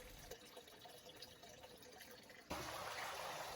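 Running water in a catfish flow-through spawning tank trickles faintly, then jumps abruptly into a louder, steady rushing flow partway through.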